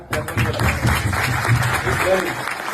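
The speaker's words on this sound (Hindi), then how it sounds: "इस बंदे का तालियां बताओ" A crowd applauds a team member in a steady, dense patter of clapping that runs throughout, with voices talking and calling out underneath.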